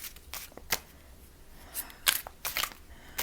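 Tarot cards being shuffled, heard as scattered soft riffling bursts and crisp slaps of card stock, close and fairly quiet, with short gaps between them and no talking.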